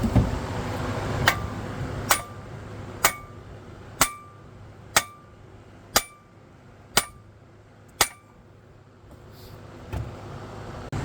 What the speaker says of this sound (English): So I'm hammering this out. You can just hitting it with the sledgehammer.